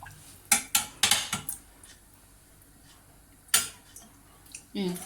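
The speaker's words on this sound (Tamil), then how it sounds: "நல்லா மிக்ஸ் பண்ணி விட்டுக்கலாம்." A spoon works through a tomato rice mixture in a pressure cooker, giving several quick metallic clinks and scrapes in a burst, then a pause and another clank, all close by.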